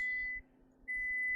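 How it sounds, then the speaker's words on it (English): Steady electronic beeping from a kitchen timer or appliance signalling dinner is ready, a sustained tone that stops briefly and then resumes, faint under a low electrical hum. "Sorry for the beeping."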